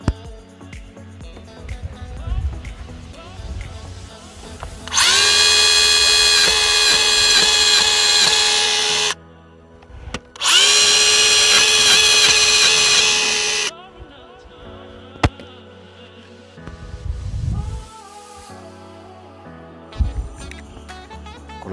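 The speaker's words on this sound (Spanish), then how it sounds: "Primero vamos a taladrar, luego colocamos el enclaje dentro de esta arandela y luego montaremos el conjunto." Power drill boring holes to mount an EJOT ejotherm insulation anchor, two loud sustained whining bursts of about four and three seconds separated by a brief pause, with quieter handling clatter before and after.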